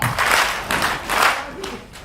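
An audience claps and taps in a rhythmic pattern, several bursts of hands in a steady beat with softer taps between them, close and lively.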